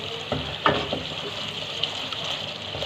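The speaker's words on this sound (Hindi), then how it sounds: "यहाँ पे 5 मिनट हो चुके हैं इसको फ्राई करते हुए" Chicken liver frying over low heat in a pan, a steady close sizzle with a few brief stirring clicks early on.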